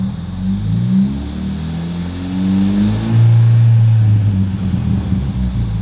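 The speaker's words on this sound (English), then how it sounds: "all I'm gonna do is rev up to 3000" A car engine running a Microsquirt controller with auxiliary fuel injectors, heard close and loud as it is revved up to 3000 rpm, the low rumble swelling and then easing back.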